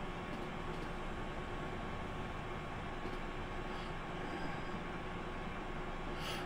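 A Class 220 Voyager diesel train on the modern Riviera Line in Train Simulator, running with a steady loud rumble and rolling wheel noise throughout, no talk.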